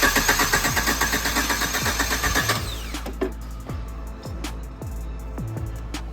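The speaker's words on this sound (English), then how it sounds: "We just started it and everything seems to be in good working order." A swapped 1.6L 16V engine in a Suzuki Samurai cranks and catches, then settles into a steady, slightly uneven idle with rhythmic pulsing, heard close up without talk.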